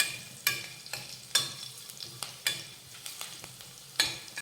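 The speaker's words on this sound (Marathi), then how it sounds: "आता हा लसूण हलक्या सोनेरी रंगावर परतून घेऊयात" Crushed garlic fries in a pan until lightly golden: a steady close sizzle broken by regular scraping stir strokes, with no voices.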